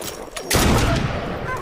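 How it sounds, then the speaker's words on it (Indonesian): A sudden burst of rapid gunfire from a war film, loud and dense after a brief quieter lead-in, with a narrating voice running underneath. "ada seorang musuh yang datang menembak dirinya dari samping"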